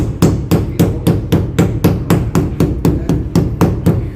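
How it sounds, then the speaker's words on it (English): A hammer pounds slices of papyrus to squeeze out water for papermaking in Egypt, striking in a steady rhythm of about fourteen loud, close blows, each a sharp thwack. "We have to get the water out using the hammer."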